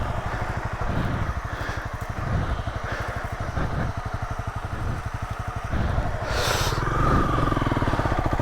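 A motorcycle engine runs steadily at raised revs with a fast, even chugging pulse, loud and close throughout, while people talk briefly over it in a setting where bikes have gone down.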